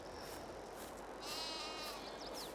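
Sheep bleating in the Farming Simulator 22 video game, a pen of twenty grown sheep, with a few high calls rising over a steady farmyard ambience, no talk.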